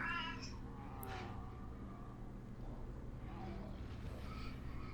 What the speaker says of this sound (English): Leon, it's just my cat.